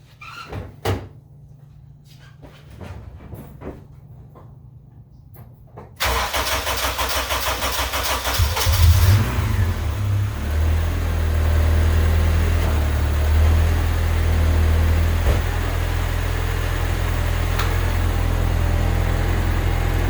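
A turbocharged all-wheel-drive Honda Civic EM2 with a new full exhaust cranks and fires up after a few clunks, then settles into a loud, steady idle that stays close and continuous.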